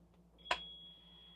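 An RV's engine warning system gives a single short electronic beep with a brief click, then a thin steady tone lingers faintly over a quiet low hum.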